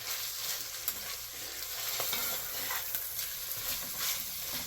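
Tomato paste frying and caramelizing in a pot for lasagna soup while being stirred, giving a steady, close sizzle with soft scraping movements throughout.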